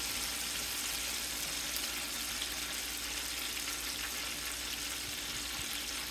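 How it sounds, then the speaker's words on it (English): Half a stick of butter melts and sizzles in a hot pan, a steady, even hiss with faint crackles throughout, close and unbroken, no voices. "half a stick of butter here. Melting there. All nice and melted."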